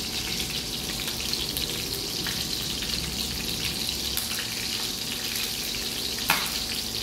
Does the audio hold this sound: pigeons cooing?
no